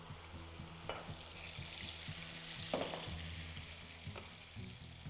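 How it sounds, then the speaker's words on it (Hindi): Tomato puree hitting hot oil left over from frying paneer, giving a steady close sizzle and crackle with a few sharper spatters and stirring clinks over a faint low hum. "इसी तेल को वापस इस्तेमाल करना है। और इस तेल के अंदर डालनी है टोमेटो प्यूरे।"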